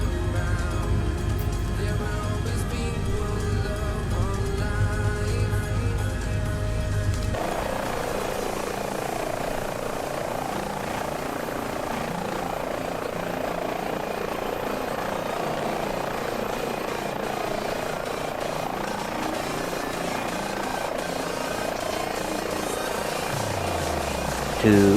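An H145 helicopter in Microsoft Flight Simulator 2020 departs, its rotor and turbine drone loud and constant, with the engine pitch shifting as it lifts away.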